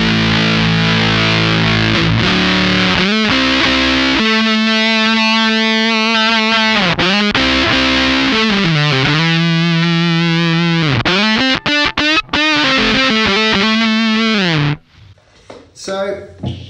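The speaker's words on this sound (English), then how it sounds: "But it does have this crazy fuzz sort of effect in there." Danelectro Food Series wah pedal with a crazy octave fuzz effect on electric guitar, loud buzzing distorted notes sliding and sustaining, then dropping away to near silence at the end.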